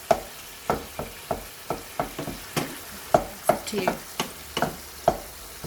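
Fatty beef mince browning in a pan for bolognese, a constant sizzle broken by a regular run of sharp spatula scrapes and stirs, close and fairly loud.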